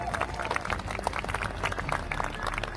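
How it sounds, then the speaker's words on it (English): An outdoor crowd at a jousting tournament at Bolsover Castle claps for the knights and their horses, a steady patter of many hands, fairly faint and continuous throughout. "So give them all a round of applause for their care for these wonderful animals."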